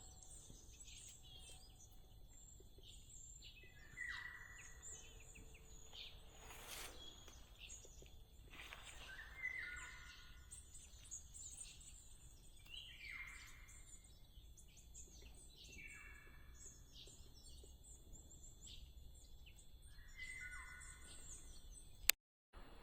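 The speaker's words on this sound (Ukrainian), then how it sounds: "птахи відчувають якусь грозу чи що, тому що дуже голосно співають" Birds sing repeatedly in a quiet forest, with recurring chirping phrases at a moderate distance over a soft insect-like background hum.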